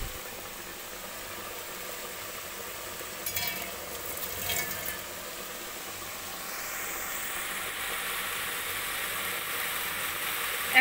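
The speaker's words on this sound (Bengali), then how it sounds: "ভালো করে ভাজা ভাজা করে নেব মশলাটা দিয়ে।" Spice masala for chicken kosha frying in a pan, a steady soft sizzle and hiss held throughout, a couple of brief stirring scrapes midway, and the sizzle swelling slightly toward the end, no talking.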